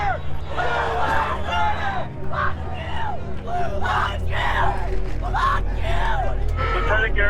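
A protest crowd shouts at police in a series of loud, rhythmic chanted bursts, voices yelling and bellowing over a constant low rumble of background noise.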